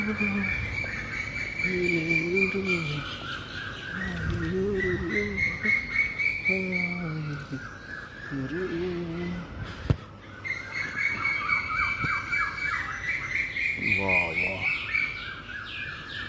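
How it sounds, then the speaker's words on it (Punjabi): Birds chirp and call repeatedly in bursts at a historic gurdwara, with high trilling notes and lower warbles overlapping, fairly close, against a faint background. "ਪੰਛੀਆਂ ਦੀ ਆਵਾਜ਼ ਕਿੰਨੀ ਵਧੀਆ ਯਾਰ ਆ ਰਹੀ ਹੈ"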